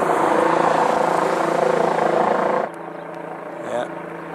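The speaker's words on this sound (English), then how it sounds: "It sounds like the helicopter's gotten a little quieter." A loud, steady helicopter rotor drone hovering overhead fills the first half, then drops off sharply to a quieter, distant hum with a brief swell near the end.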